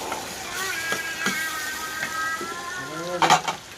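Chilli powder and turmeric being stirred into food frying in a pan, with steady close sizzling, scraping stirs throughout and a louder clatter near the end.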